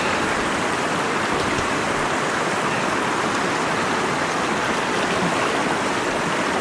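Stream water rushes steadily and loudly around a wader's legs, a dense, unbroken roar with no voices.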